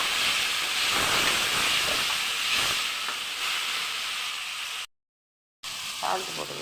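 Tomatoes sauté in a hot pan with a broad, steady sizzling hiss that softens over a few seconds, briefly cuts out, then returns faintly.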